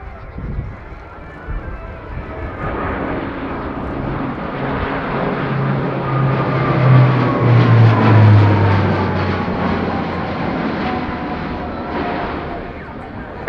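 A heavy jet aircraft of up to 30 tons flies an aerobatic maneuver at the RIAT 2019 airshow, and its engines give a loud, sustained roar. A drone rises in pitch toward the middle and then sweeps slowly downward as the aircraft passes.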